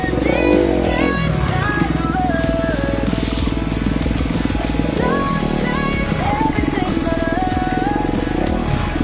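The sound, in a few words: Kawasaki KX250F four-stroke dirt bike riding in the woods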